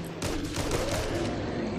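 Rapid automatic gunfire in the co-op zombie shooter Back 4 Blood, a loud continuous burst of shots close up that runs without pause through the whole moment.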